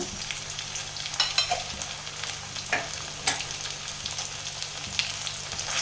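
A paste of onion, garlic and green chili fries in a pan with a steady, close sizzle, broken by intermittent scraping stirs and small crackles, no talking.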